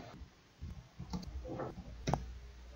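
A computer mouse clicks a few times in quick, sparse taps, quiet and close, over faint background hiss.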